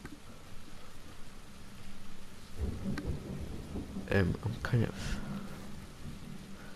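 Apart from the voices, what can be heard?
rain and thunder in PUBG video game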